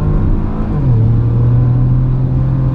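A 2015 Porsche Macan Turbo with a twin-turbo engine and its exhaust, heard from inside the car as a loud, steady low rumble that rises in pitch as it accelerates, with no talking.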